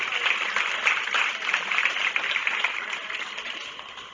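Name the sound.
applause at county fair goat show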